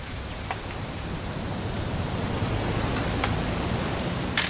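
Steady rain in the video game What Remains of Edith Finch hisses continuously at moderate loudness, with a few sharper drops standing out near the end.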